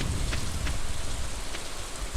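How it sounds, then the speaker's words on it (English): Steady rain hiss from a thunderstorm in the farming game Stardew Valley, close and continuous, with a few faint crackles but no clear thunder clap. "Ooh, lightning storm."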